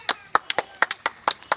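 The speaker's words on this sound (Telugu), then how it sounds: "క్లాప్స్ కొట్టండి గట్టిగా వాళ్ళకి ఒకసారి" Children clapping hard at a running race prize announcement, a quick uneven burst of about eleven sharp, close hand claps with no talking.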